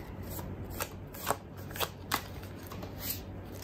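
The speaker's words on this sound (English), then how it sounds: "Let's just shuffle." Tarot cards shuffled by hand in a quiet room, a soft continuous riffling broken by several sharper snaps and taps as the deck is cut and squared, close and clear with no talking.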